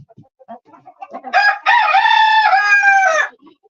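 Buff Orpington chickens cluck softly before a rooster lets out a loud, drawn-out crow nearby, ending with a few more scattered clucks.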